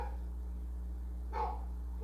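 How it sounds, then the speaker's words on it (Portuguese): Dogs bark a couple of times at moderate distance, two short bursts separated by a pause, over a steady low hum in an indoor lesson setting. "vocês vão desculpando os cachorros que estão aqui"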